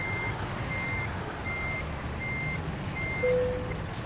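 A truck reversing into a parking spot in American Truck Simulator, its backup alarm giving a steady series of evenly spaced beeps over a low engine rumble, with a brief hiss near the end.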